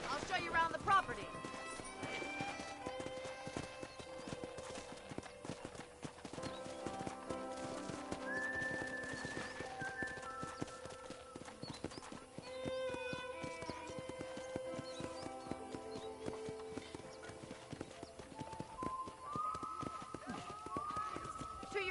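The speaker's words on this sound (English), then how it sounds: "I picked out a fine horse for you." Horse hooves clip-clop steadily in Red Dead Redemption while a horse whinnies, with game music and voices talking throughout.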